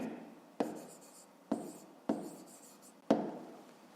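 Four separate short strokes of a pen or pencil writing math on paper, each a quick scratch that fades out, quiet and close, with pauses between.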